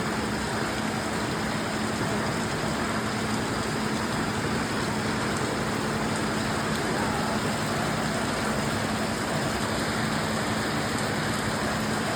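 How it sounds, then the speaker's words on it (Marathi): Heavy rain pours down steadily, a dense, even hiss that fills the whole stretch, with a faint low hum underneath and no break in the downpour. "पाऊस खूप आहे सो माझा आवाज काही येणार नाही"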